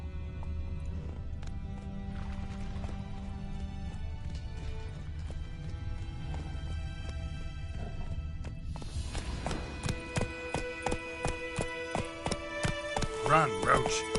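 Hooves clip-clop as the horse Roach walks and then breaks into a gallop in The Witcher 3, over game music and ambience, growing faster and louder near the end.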